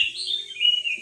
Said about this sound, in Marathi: पक्षी कशा ओरडतात.